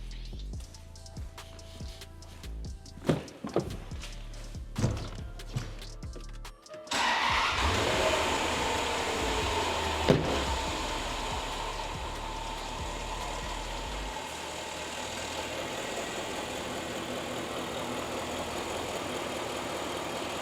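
A Land Rover LR4 engine cranks and fires after a sensor change, then settles into a steady idle that runs close and fairly loud, after a few clunks and knocks at the start.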